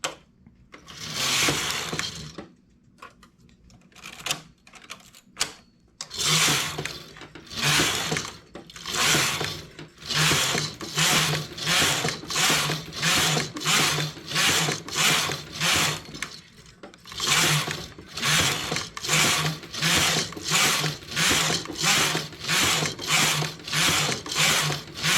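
A knitting machine carriage sweeps back and forth across the needle bed knitting rows of a ballerina hair net, making a loud, steady rhythmic swishing clatter with evenly spaced passes after a few slower starts, close up and without talk.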